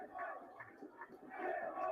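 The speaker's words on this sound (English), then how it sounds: "Has roused the home crowd though." A home football crowd stirs during a match against Wycombe, a faint, distant roar of many voices that swells toward the end.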